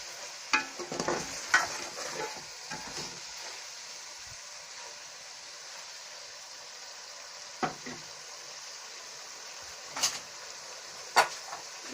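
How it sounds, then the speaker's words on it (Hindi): Tinda sabzi with garam masala and coriander being stirred in a frying pan, a soft steady sizzle beneath scattered scraping and knocking strokes of a spoon against the pan, no talking. "अब हम मिक्स कर लेंगे।"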